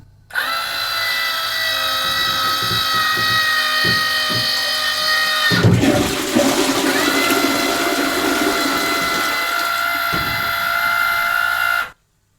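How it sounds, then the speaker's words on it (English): A toilet flushed by a voice-assistant command: a steady mechanical whir with a tonal hum runs throughout, broken midway by a louder gurgling rush of water, then the whir resumes until it stops abruptly. "Alexa, flush the toilet."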